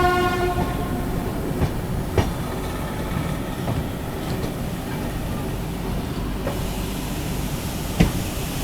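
The Dibrugarh Rajdhani Express pulling into Kishanganj railway station, heard from inside a 3AC coach as a loud steady rumble with a fading horn at the start and occasional sharp clanks of the wheels.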